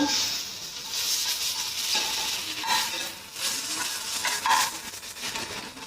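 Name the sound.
onions frying in oil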